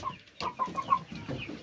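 Aseel fighting chickens cluck in a quick, uneven series of short calls, close and fairly soft, with a farmyard background and no talk.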